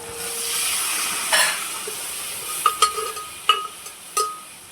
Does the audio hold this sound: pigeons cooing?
no